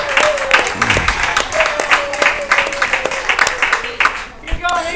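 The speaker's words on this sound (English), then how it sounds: "So that got the Rebel crowd up and roaring." Spectators at a high school baseball game cheer and clap for the Rebels, a roaring, continuous crowd with scattered yells, while a commentator talks over it.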